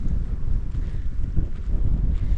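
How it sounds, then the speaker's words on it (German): Strong wind buffets the microphone along the Pamir Highway on a bicycle tour, a loud, continuous low rumble with rising and falling gusts and no voices. "Es ist einfach wirklich zu windig."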